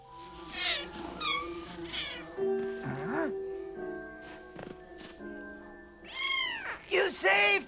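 A cartoon kitten gives a string of high, wavering meows, loud and close, mixed with animated voices and a soft musical backdrop.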